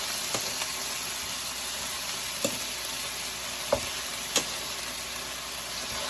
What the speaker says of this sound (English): Now I'm gonna drop them off into a skillet. Get them sauteed before they go off into our oven and finish baking.